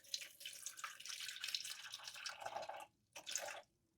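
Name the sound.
pouring 78-degree water into sourdough mix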